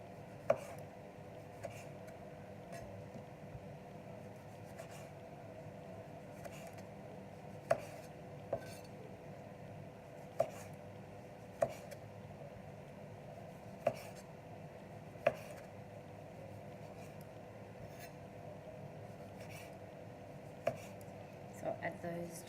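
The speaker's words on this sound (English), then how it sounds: "just slice these into wedges" Knife slicing ripe vegetables into wedges for a Greek salad on a cutting board, a dozen or so sharp, separate taps at uneven intervals, close up over a quiet low kitchen hum.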